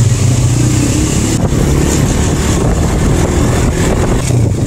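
A Hi Speed Freedom motorcycle setting off on a mountain road trip toward Gilgit, its engine a steady, loud, close drone with wind rush, holding an even level throughout with no talk.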